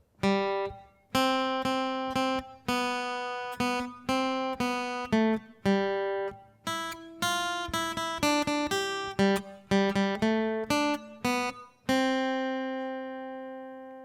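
A guitar melody of We Wish You A Merry Christmas picked one note at a time, clear and close, with steady plucked attacks and a final note left to ring out.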